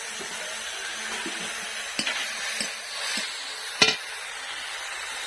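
Ginger paste spooned into softened tomatoes in a hot pan, giving a broad steady sizzle with scattered scraping stirs and a couple of sharper spatula knocks, close and without talk.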